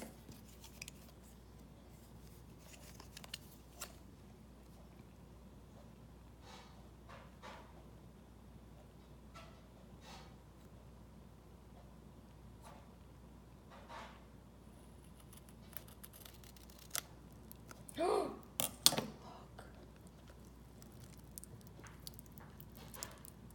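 Toy packaging is cut open in a quiet ASMR setting: faint scattered snips and crinkly ticks that come and go, with a brief louder rustle near the end.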